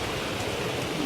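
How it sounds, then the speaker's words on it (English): Dense, steady hiss of rain falling outdoors, even and unbroken for about a second, fairly faint with no talking. "Raining."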